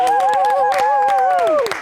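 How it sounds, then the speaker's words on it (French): Studio audience applause on a French talk show: brisk, continuous clapping with a wavering cheer or whoop riding over it, loud and close, fading at the end. "On va applaudir"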